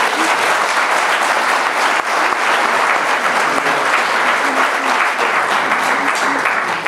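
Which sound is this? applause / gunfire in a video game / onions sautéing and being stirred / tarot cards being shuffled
applause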